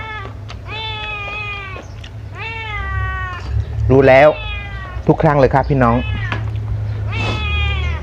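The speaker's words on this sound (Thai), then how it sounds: "พอเวลากินก็แมวก็วิ่งมา" A cat meows at mealtime during a rural Thai meal, giving a run of loud, drawn-out meows close by, one rising to a yowl, while a person talks between them.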